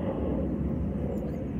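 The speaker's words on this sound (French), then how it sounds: "un avion passe." Airplane passing overhead, a steady broad low engine rumble and roar that stays loud throughout the short stretch, with no voices over it.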